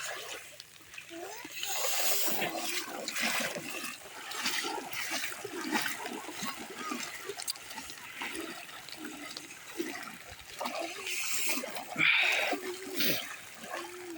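Floodwater rushes and churns over rapids in a steady broadband roar, with voices talking faintly beneath the continuous flow.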